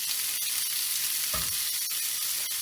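Pork belly with green onion frying in a 30cm pan over reduced heat, a steady close sizzle running throughout with a few brief stirring knocks and no talk.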